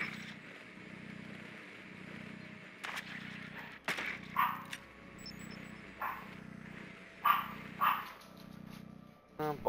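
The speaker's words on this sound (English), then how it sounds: "Oh boy, there goes the doggies. I am sorry for the barks that may happen in the background." Dogs bark somewhere in the house during a Rainbow Six: Extraction game session, scattered faint barks at a distance under the steady hum and effects of the game.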